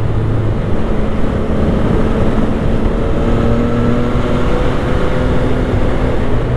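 A CF Moto 675 SR-R sport motorcycle engine drones loudly and steadily while riding, a constant buzzing roar with wind rush and no voices.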